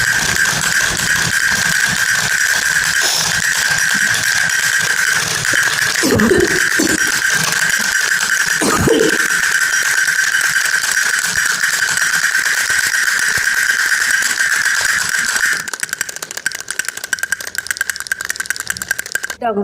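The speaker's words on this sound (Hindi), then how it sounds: "डमरू तो सच में कितनी अच्छी आवाज़ निकाल रही है, बहुत ही अच्छी वाली डमरू है।" A small damru hand drum played indoors in a village house gives a loud, rapid, continuous rattling with a bright ringing edge, while voices talk in the background.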